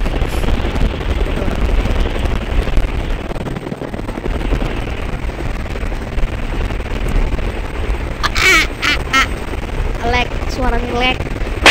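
A helicopter in the Roblox video game, a loud, steady broadband rotor roar with rumbling gunfire-like noise, with voices talking over the din near the end.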